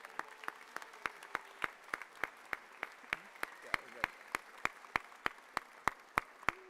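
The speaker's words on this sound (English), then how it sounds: "Hey, round of applause." Sparse, evenly spaced claps ring out from an audience at a middle school culmination ceremony, a steady rhythm of distinct hand claps rather than a dense ovation, fairly quiet and heard without talk.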